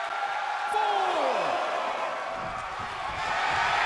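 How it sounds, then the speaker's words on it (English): Crowd noise in WWE 2K22 wrestling, a constant loud roar of cheering arena fans under a commentator's voice, with a falling whistle-like tone early on. "The sound of this crowd is deafening, and he's asking for more."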